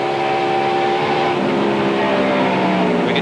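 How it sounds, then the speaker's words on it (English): Onboard engine of Mark Martin's NASCAR race car at the 1996 MBNA 500, a loud, steady roar as the driver backs off the throttle, with engine tones sliding slightly downward. "We can hear him get right out of the throttle."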